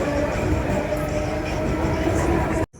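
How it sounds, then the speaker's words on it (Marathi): A train runs at Neral railway station, a loud, continuous rumble of rolling carriages with faint wheel clatter that cuts off abruptly at the end. "आणि ही आपली ट्रेन आहे, बघूया."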